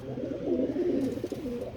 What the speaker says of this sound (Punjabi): ਆ ਦੇਖੋ ਬਈ ਆ ਕਾਲੀ ਪੁੱਛਾ ਕਬੂਤਰ ਆ